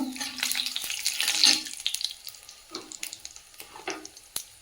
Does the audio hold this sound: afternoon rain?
no